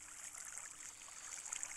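Flowing water from blocks placed in a Minecraft potato farm, a steady soft trickling wash that runs continuously and faintly, with no talking over it.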